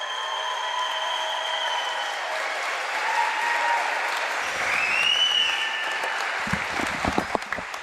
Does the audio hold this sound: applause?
yes